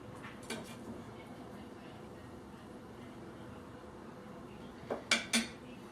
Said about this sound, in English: I'm just going to dig in with this spoon.